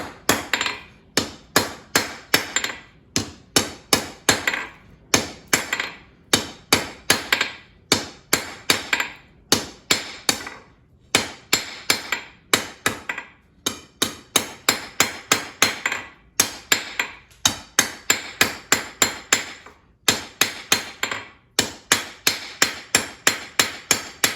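A hammer forges a taper on a dinner triangle, loud and close, in fast bursts of ringing blows on metal separated by brief pauses, keeping a steady rhythm throughout.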